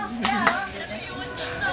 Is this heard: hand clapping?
yes